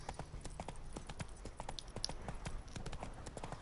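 Roach the horse trots through The Witcher 3, hooves clopping in a quick, steady rhythm, fairly close and moderately loud, with no voices over the game sound.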